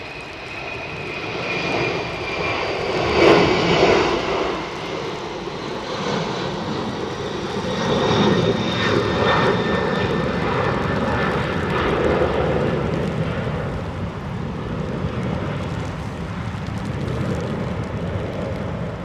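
An airliner taxiing at London Heathrow Airport, a steady, moderately loud jet engine whine and rumble that swells and holds for the full stretch, heard from a distance with no voices.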